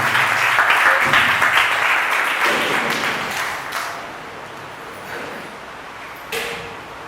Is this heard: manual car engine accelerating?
no